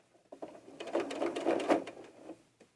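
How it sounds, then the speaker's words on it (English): A sewing machine runs in a short burst while back stitching the collar of an 18-inch doll top, a close, quick mechanical rattle lasting about two seconds between quiet moments. "you want to make sure that you back stitch at the beginning and the end of the collar again"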